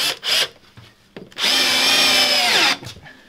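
Power drill driving a screw into wood while building furniture inside a Mercedes Sprinter ambulance campervan conversion: two short bursts, then one sustained whirring run of about a second, close and loud.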